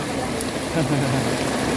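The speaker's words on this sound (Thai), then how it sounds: "มาดูบรรยากาศตอนเช้าเช้ายามฝนตก" Heavy morning rain pours down steadily as a dense, even hiss, loud and close throughout, with no clear voices over it.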